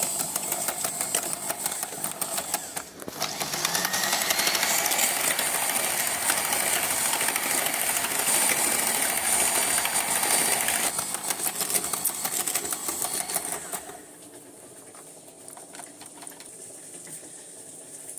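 An electric mixer whirs steadily as it beats cake batter with added oil and milk, with a loud, buzzing motor tone running for about ten seconds before it stops, leaving quieter scraping and handling sounds.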